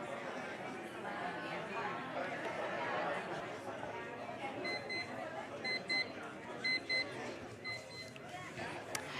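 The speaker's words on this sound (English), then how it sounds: "Okay, so that was the timer." A short electronic timer beeps in a repeating pattern near the end of a timed group discussion at a conference session, sounding over steady crowd chatter.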